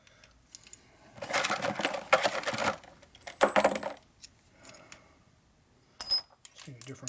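Metal washers clink and rattle in short, bright bursts while being sorted during a cylinder head rebuild on a 1952 Harley-Davidson 74ci panhead, with quiet pauses and single metallic taps in between.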